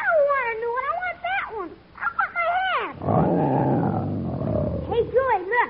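A lion growls in an old radio comedy sketch, most likely a voice actor imitating the animal. A long, rough, rumbling growl sits between excited vocal sounds and loud voices.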